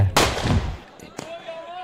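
A powerful firecracker bursts on the ground with one sharp, loud bang that decays over about half a second, followed by a couple of smaller distant pops and a faint whistling tone.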